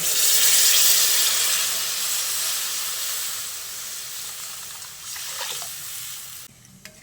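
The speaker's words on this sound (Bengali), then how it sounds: "এবার আমি এর মধ্যে পরিমাণ মতো জল দিয়ে দিচ্ছি।" Warm water poured into a pan of spiced potatoes cooking, a loud, close rushing hiss and splash that gradually softens into sizzling, ending with a brief clatter, no speech.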